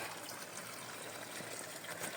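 Running spring water gushes steadily while hands are washed under it near an old cliffside monastery, a faint, constant hiss with no clear breaks.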